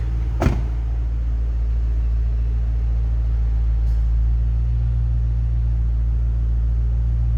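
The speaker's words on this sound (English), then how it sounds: "Listen to that, good sounding car. Nice deep throaty exhaust." A 2006 Ford Mustang Shelby GT-H idles with a steady, deep throaty rumble from the exhaust, low and continuous throughout.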